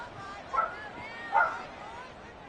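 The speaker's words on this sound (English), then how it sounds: "What is you barking about?" A dog gives two or three short yips and barks a little distance away over a murmuring background during a livestream, with no voices clearly heard.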